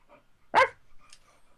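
A dog gives a single loud, close bark, followed by a faint second yip and soft background sounds.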